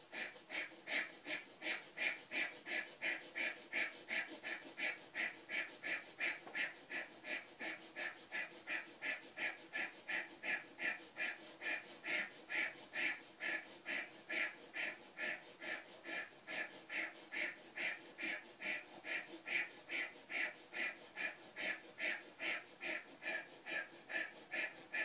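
Rapid rhythmic breathing during a yoga breathing exercise, a steady train of quick, forceful breaths repeating about twice a second for the whole stretch, close and fairly loud with no talking.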